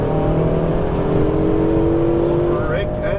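A Ferrari 488 GTB on a racing circuit pulls hard under throttle, its engine a loud, steady rising drone throughout, with a voice speaking over it.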